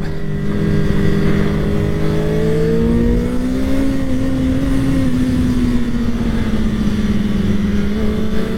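A Kawasaki sport motorcycle, a 2024 ZX-4RR or ZX-6R, laps a rain-soaked race circuit in southern France, its high-revving engine droning loudly with rising and falling pitch as the rider works through the gears. No one speaks.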